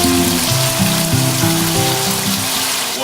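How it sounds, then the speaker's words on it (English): Beer wort boiling in a pot on a home stove, a steady loud bubbling and hissing roll with low tonal hum underneath, continuous throughout. "I'm going to get this boiling a little bit, maybe for another minute"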